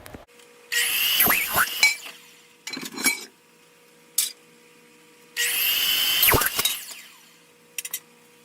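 A miter saw cutting aluminum pieces for a utility trailer: loud, high-pitched whining cuts in two long bursts with shorter blips between, close and without talk.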